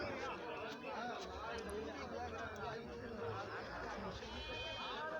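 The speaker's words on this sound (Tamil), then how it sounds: "நல்ல செம்மறி குட்டிகள்" Sheep lambs bleat amid a crowded goat market in Narikkalpatti, thin cries rising over constant chatter and background crowd noise, with people talking throughout.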